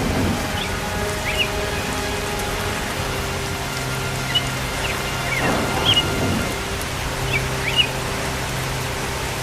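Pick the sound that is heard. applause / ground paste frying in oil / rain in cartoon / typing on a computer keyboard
rain in cartoon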